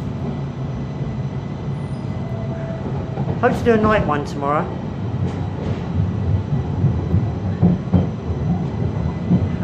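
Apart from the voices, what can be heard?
train ride in snow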